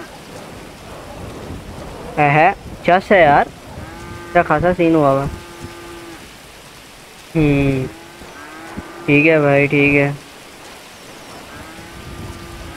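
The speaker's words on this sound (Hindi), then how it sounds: "यार, बारिश हो गई है, मुझे कोई शेड लेना पड़ेगा जाकर" Steady rain falls in the video game GTA 5, a constant wash of noise beneath someone speaking Hindi in short bursts.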